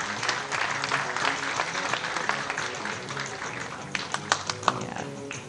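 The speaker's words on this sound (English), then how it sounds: "Please give a big applause for the next series." Audience applause at a 10 m air rifle shooting final, moderate and somewhat distant, with scattered sharper claps standing out near the end and a faint murmur of voices underneath.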